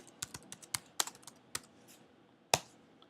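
Typing on a computer keyboard, a quick sequence of about a dozen sharp, close key clicks in uneven bursts, with one louder keystroke near the end and no speech.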